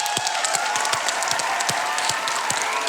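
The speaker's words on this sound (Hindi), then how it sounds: "भाई एक जोरदार ताली।" A studio audience on a comedy game show breaks into steady, dense applause that carries through the whole moment, loud and close, with no voices rising above it.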